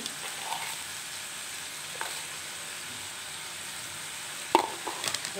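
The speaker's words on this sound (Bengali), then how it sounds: "ভালো করে কষাচ্ছি" Potatoes sautéing in a pan with turmeric, coriander powder and salt for a vegetarian aloo dum, giving a steady soft sizzle with a few brief clinks of a spoon against the pan near the end.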